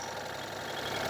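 An ISEKI TU220 tractor engine idles with a continuous, even rumble and faint knocking texture, moderately loud and close, with no voices over it.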